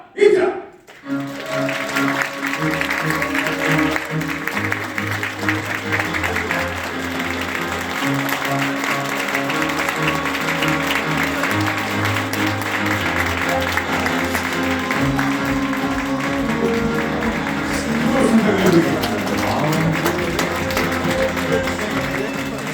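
Wedding guests applauding at a ceremony in a hall, sustained clapping under music and an announcer's voice for the full stretch, with a brief louder swell near the end.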